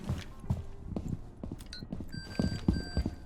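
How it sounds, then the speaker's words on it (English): Footsteps tread at an irregular pace in Rainbow Six Siege amid scattered game sound effects, with a couple of brief electronic tones toward the end. "Sounds like they're walking in."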